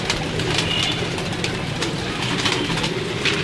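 Sialkoti pigeons cooing softly on a rooftop, their low murmuring steady under a broad outdoor hiss with faint bird chirps scattered throughout.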